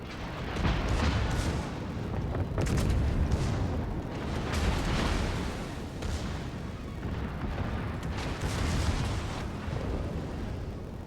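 Ship guns firing in a naval video game, with repeated heavy booming blasts and rumbling bursts rolling on continuously, loud and dense throughout.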